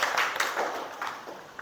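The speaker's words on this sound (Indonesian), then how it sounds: "tepuk tangan dulu untuk kita semua" Children clapping together in a classroom, a quiet, scattered patter of small hands that holds steady for a moment before fading.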